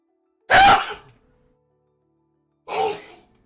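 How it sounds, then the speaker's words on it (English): A single sharp sneeze bursts out nearby, followed after a pause by a second, softer sneeze-like burst; otherwise quiet. "Oh, I might sneeze."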